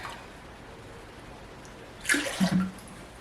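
White vinegar for a cucumber salad is poured in a short, close splash near the end of an otherwise quiet moment.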